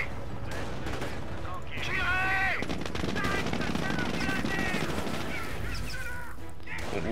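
Machine-gun fire rattles through a Company of Heroes: Opposing Fronts battle during the Liberation of Caen mission, with sustained bursts layered into a dense, continuous wash of combat noise and voices.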